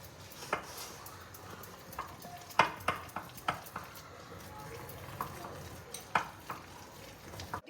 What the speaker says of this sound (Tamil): இப்போ வந்து விஸ்கால நல்லா கலக்கணும்